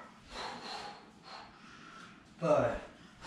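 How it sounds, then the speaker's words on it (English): Heavy breathing during boxing technique work, with forceful exhales and snort-like breaths cutting through and one loud burst near the end, while a voice counts or talks in between. "when I'm doing the technique, I'm breathing."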